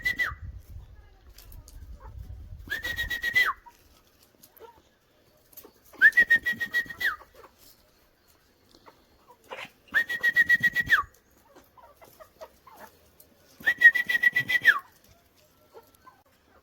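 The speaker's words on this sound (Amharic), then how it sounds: "አሁን ትንሽ ራቅ ብለን ደግሞ አፋጭተን እንሞክራቸዋለን" Four loud, sustained whistles, each about a second long, call chickens to food outdoors, spaced evenly several seconds apart with quiet gaps and faint bird sounds between.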